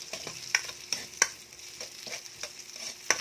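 Ginger sautéing in a hot pan for pork batchoy, a steady sizzle broken by sharp clinks of a utensil stirring against the pan every half second or so, with no talking.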